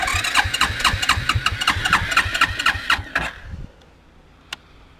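A frozen Suzuki 300 quad buried in deep snow cold-starts on full choke, a quick string of rhythmic cranking chugs and sputtering firing pulses for about three seconds before the engine cuts out, leaving near silence with one faint knock.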